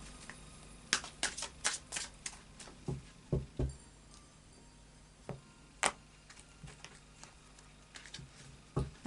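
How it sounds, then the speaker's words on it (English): Tarot cards are shuffled by hand in quiet bursts of soft snapping clicks, several short riffles spread across a hushed room with gaps between them. "So another couple of shuffles."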